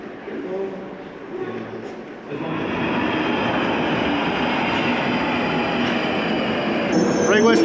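A London Underground tube train rumbles loudly from inside the carriage, building from a quieter start into a steady roar of wheels and track with a rising squeal near the end.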